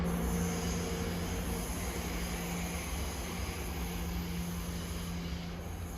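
London Northwestern Railway train from Crewe to London Euston rolling into platform 2 at Nuneaton station, a steady rumble of wheels with a faint high whine and squeal, heard from the platform at moderate distance.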